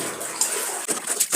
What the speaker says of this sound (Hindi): और अब मैं इन कपड़ों को धो रही हूँ।